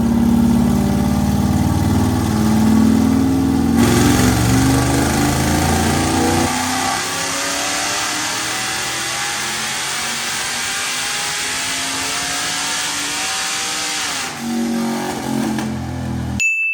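A sixth-generation naturally aspirated Chevrolet Camaro convertible revs hard through a drag pull, a loud rising engine roar that climbs through shifts and then drops back toward a lower steady drone, with no voices.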